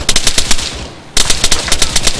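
Enemy machine-gun fire in a video game, two loud, rapid bursts of closely spaced shots split by a brief pause.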